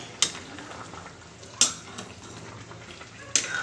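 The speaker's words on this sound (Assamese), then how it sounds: "তৰকাৰী উতলি আছে।" Fish curry with tomato and white mustard simmers in a pan with a steady bubbling sizzle, broken by three sharp metal utensil clinks against the pan.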